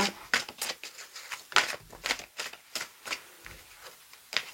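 A deck of tarot cards is cut and handled, giving a quick series of crisp papery taps and flicks, close and fairly loud, in an uneven rhythm with brief pauses.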